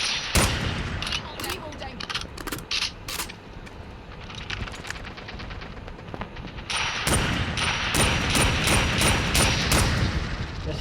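Call of Duty Mobile gunfire: rapid bursts of sharp shots and automatic fire in clusters, with a pause midway before a denser stretch of shooting, loud and close.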